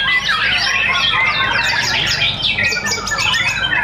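A white-rumped shama (murai batu) sings a loud, rapid stream of sharp chirps, whistles and squawky trills close by at a songbird competition, dense and continuous throughout with no pauses.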